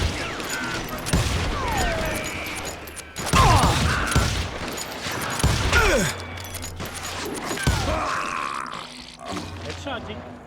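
Gunfire in the Call of Juarez Gunslinger video game, with several sharp shots and ricochet-like whines spread over a busy game soundscape, fairly close and loud, while someone talks over the action.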